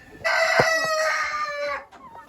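A chicken crows loud and close in a chicken barn, one long drawn-out call with a short clucking tail, no talk.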